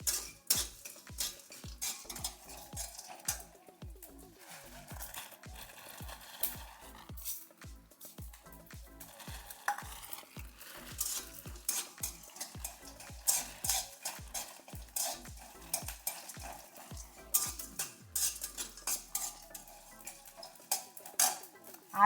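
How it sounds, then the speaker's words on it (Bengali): Cumin, poppy seeds, dried red chilies, cashews, cardamom and cinnamon dry-roast in a wok, with a spatula scraping and tapping in a fast steady rhythm and a faint sizzle beneath, close up. "দেখুন জিরা, চালমগজ, দুটো শুকনো লঙ্কা আর কাজু, এগুলো একটু শুকনো ফ্রাই ভেজে নেব।"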